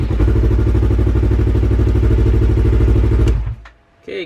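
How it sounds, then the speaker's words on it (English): A Yamaha R3 motorcycle engine in neutral starts and runs at a loud, steady idle for about three and a half seconds, then shuts off abruptly, leaving a short quiet gap before a brief noise at the end. "let's go ahead and start it up and see if the code goes away"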